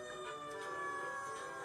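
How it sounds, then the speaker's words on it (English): A fire truck siren at a fire hall gives a steady, loud wailing tone that holds for under two seconds with no voices over it. "Oh, I hear a siren."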